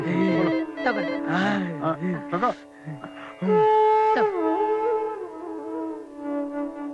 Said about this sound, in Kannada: ಪ್ರೇಮ್, ನಿನಗೆ ಫೋನ್ ಕಣೋ.